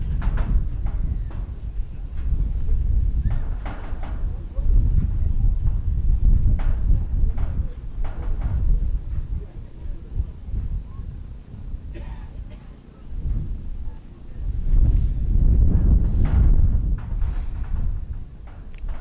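Strong gusting wind buffets the microphone at an outdoor rugby match, a continuous low roar that surges and eases over about twenty seconds, with faint crowd and field sounds beneath it.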